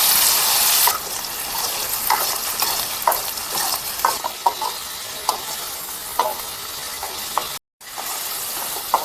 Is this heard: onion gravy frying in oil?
yes